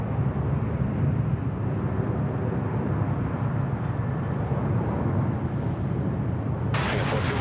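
An airliner departing Sydney Airport roars loudly and continuously, a broad rumbling jet noise that holds steady throughout, with a brief hiss of static near the end.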